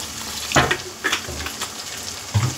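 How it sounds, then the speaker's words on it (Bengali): Water poured into a cooking pan of spiced fish and oil for a Bengali dish, giving a few short splashing, sizzling bursts close by, with quieter hiss between them. "এবার সামান্য পরিমাণে আমি জল দেবো, একটু কাদা কাদা বানাবো বলে"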